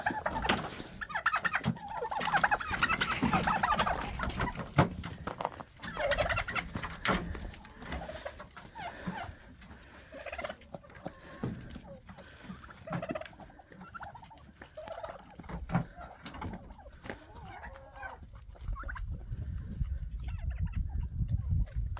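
Chickens and turkeys cluck and gobble during a frosty morning feeding outdoors, a steady jumble of clucks, gobbles and rustling near the listener, with no talking over it.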